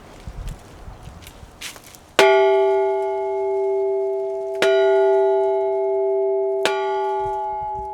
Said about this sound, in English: I'm honored to stand here today to ring the Maryville bell